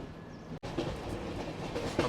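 A train rolls steadily through jungle near Dudhsagar waterfalls on the Goa to Secunderabad route, with a close, continuous rumble and faint clatter, a brief cut early on and no talk.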